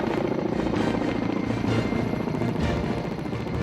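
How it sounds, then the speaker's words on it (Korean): A Korea Forest Service firefighting helicopter leaves the sky over Cheongwon after a wildfire mission. Its loud, steady rotor thump and turbine roar fill the whole stretch with no voices. "산림청 헬기는 1박 2일간의 산불 진화 임무를 끝내고 청원 상공을 떠났다"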